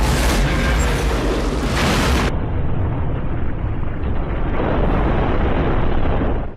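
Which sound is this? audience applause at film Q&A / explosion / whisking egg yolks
explosion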